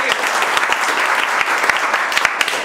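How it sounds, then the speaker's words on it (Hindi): Steady, dense applause from an audience at a chip-level mobile repair training session, continuous clapping at even loudness for a few seconds with no talk over it. "जोरदार तालियों से बजाइए"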